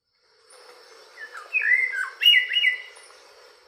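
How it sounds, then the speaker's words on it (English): Recorded call of a blue-and-white mockingbird, a Guatemalan highland endemic, playing as a series of bright, warbling whistled phrases that rise and fall in short bursts over a faint steady hiss. "experiencing and appreciating other regional highland endemics like this blue and white mockingbird. It's also a great singer."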